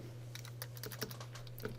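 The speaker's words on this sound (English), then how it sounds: "I could go in here and type" Rapid clicking keystrokes on a computer keyboard while C++ code is typed, irregular bursts of taps close to the mic over a steady low electrical hum.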